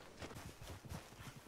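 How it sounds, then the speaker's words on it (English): Hooves of a foal clip-clop in a steady walking rhythm while it is led along in the Red Dead Redemption 2 game, the soft irregular beats sounding close and continuous against a faint ambient background. "So you'll just see me walking a little baby horse."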